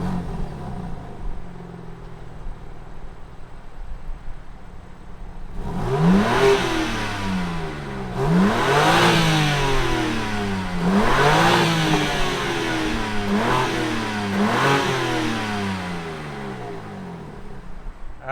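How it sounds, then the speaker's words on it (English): A 2021 BMW M4 Competition engine fires up, then gives several loud, close revs that rise and fall in pitch before settling back toward idle between blips. "let's fire up this M4 Competition and hear what it sounds like"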